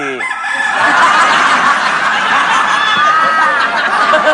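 A rooster crows loudly and close in a continuous call lasting several seconds, with studio audience laughter and voices mixed underneath.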